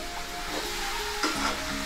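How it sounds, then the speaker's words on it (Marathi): Whole masoor lentils sautéed over low heat in a pan for a Malvani-style dish, a dense steady sizzle with stirring scrapes, close and without speech. "असं छान परतवून घ्यायचं आहे"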